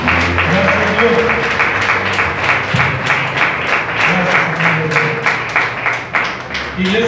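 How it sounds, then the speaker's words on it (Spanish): Loud, sustained clapping from a church congregation honoring Christ, a thick wash of hands mixed with cheering voices and soft musical tones beneath, steady from start to finish. "Dale un fuerte aplauso a Cristo, al Dios Todopoderoso."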